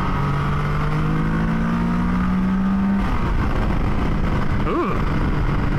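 A 2022 Can-Am Spider F3-T three-wheeler's engine drones while riding, its pitch climbing steadily for a few seconds before dropping, then a quick rev swell near the end, with wind rush throughout.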